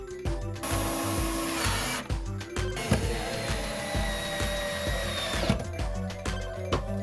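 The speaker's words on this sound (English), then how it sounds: "we screw it into the studs to hold it in place" Power drill driving screws through a bathroom vanity into wall studs, close whirring bursts broken by short pauses and clicks, repeated several times.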